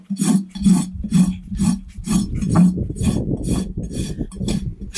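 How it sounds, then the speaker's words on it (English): A hand rasp files excess hardened Shufix repair material with rhythmic rough scraping strokes, about eight close rasping passes in a steady back-and-forth rhythm and no talking. "So we're gonna rasp the excess off."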